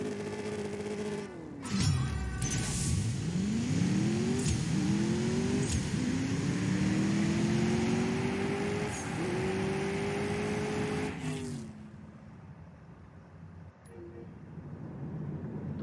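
A Mercedes-AMG S63 Coupe engine in the CSR2 racing game revs up through several gear shifts, each climbing whine cut off by a shift, loud and steady before dropping off near the end.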